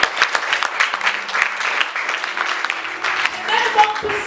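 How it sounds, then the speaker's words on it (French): A church congregation applauds and cheers in praise of the Lord, a dense, loud wash of clapping with voices calling out throughout and a brief rising tone near the end. "On acclame le Seigneur, c'est une parenthèse."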